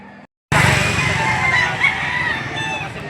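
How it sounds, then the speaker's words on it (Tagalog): Chickens at the Lipa livestock auction market in the Philippines, with a loud rooster crowing and clucking close by after a brief silence, the noisy fowl call filling the rest of the moment. "may nakita tayo dito ng dalawang manok"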